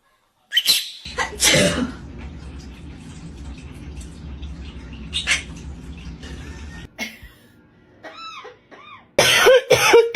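A parrot imitates human sneezes: a loud burst at the start, another mid-clip and a final loud one, with bird chirps and squeaky calls between over a low background hum.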